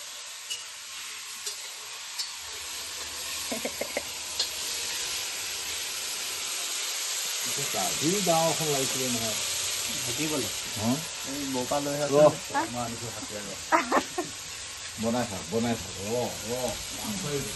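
Food frying in a pan, a soft steady sizzle and hiss running throughout, with bursts of conversational voices talking over it in the second half.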